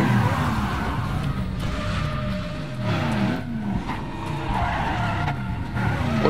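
In Resident Evil 7, a car rams the player with a sustained, loud tire-squealing skid and a roaring engine that fill the whole stretch without pause.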